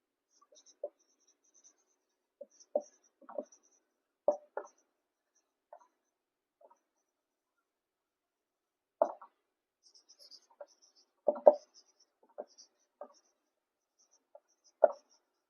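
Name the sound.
writing by hand while teaching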